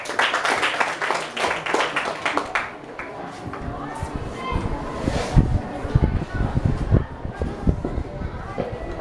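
Clapping from a debate audience greets the first affirmative speaker, loud and sharp at the start, then thinning into scattered, uneven claps and shuffling with some voices mixed in.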